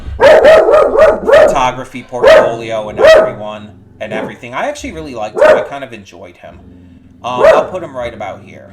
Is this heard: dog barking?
yes